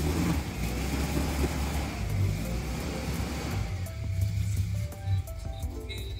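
A Mitsubishi Lancer boxtype engine with racing cams runs steadily at a rough, lumpy idle, close by and fairly constant, with a slight rise in revs toward the end.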